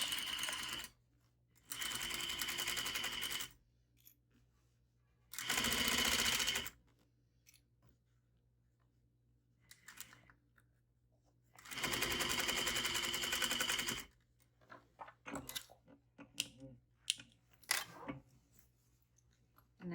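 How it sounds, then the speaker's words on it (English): A sewing machine stitches a fly seam in short bursts of rapid, even whirring, several runs of a few seconds each with quiet pauses between, ending in lighter ticks and clicks of handling. "stitch at 3/8 inch seam allowance, starting at the notch."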